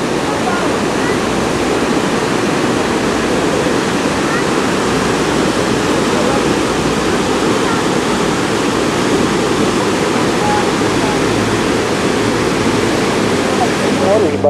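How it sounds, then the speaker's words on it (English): A mountain creek rushes downhill through pine forest near the Going-to-the-Sun Road, a steady, loud, broadband wash of flowing water that holds constant for the whole stretch. "And here's a creek coming down."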